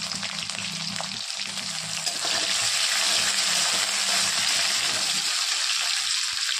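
Garlic frying in a pan as a tomato goes in for a dry potato bhaji, a steady close sizzle and hiss that swells louder midway and keeps crackling evenly to the end, with no voices.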